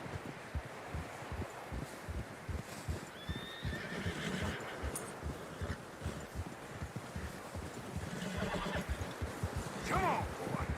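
Horses neigh and whinny in the snowy mountains of Red Dead Redemption 2, with steady clip-clopping hooves on fresh snow and rustling wind. A few loud whinnies stand out near the end.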